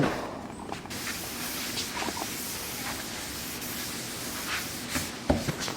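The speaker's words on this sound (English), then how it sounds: "We're going to switch over to the orbital to get that last little bit." An orbital sander works over a paddle board, giving a steady close hiss and rubbing drone with slight surges and a brief knock near the end.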